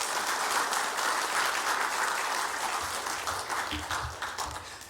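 A church congregation claps steadily to welcome a guest pastor at an evening revival service, a dense even applause that holds for several seconds and then thins and fades toward the end.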